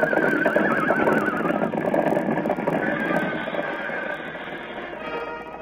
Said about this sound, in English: Now toward the ranch house comes another horse.